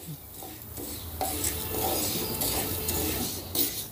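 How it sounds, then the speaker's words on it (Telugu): A utensil scrapes and stirs urad dal as it dry-roasts in a pan over a low flame, soft repeated scraping with a faint crackle, close and steady with no talking. "ఈ మినపప్పుని స్టవ్ను సిమ్లో పెట్టుకొని దోరగా వేపుకుందాం"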